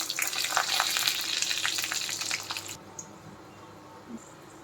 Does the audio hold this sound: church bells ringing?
no